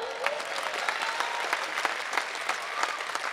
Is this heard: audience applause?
yes